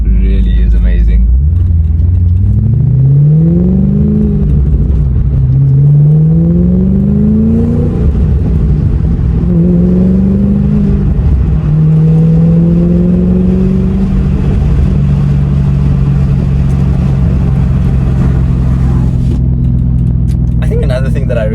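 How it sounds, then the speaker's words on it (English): A V8 engine in a B7 Audi RS4 accelerates through several gears, each rising growl followed by a shift, then settles into a low rumble, with a voice over it at times. "that V8 is growling away in the background even at lower revs"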